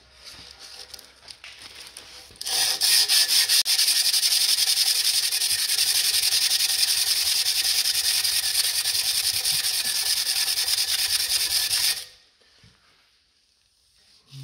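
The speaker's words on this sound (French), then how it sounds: "Je vais essayer de gommer les irrégularités de la meuleuse. On va bien voir ce que ça fait avec de la toile émery, tout simplement." Emery cloth rubbed by hand over the exhaust pipe of a Case IH CS 94 tractor, a loud, close, rapid scraping that runs steadily for about ten seconds and then stops abruptly.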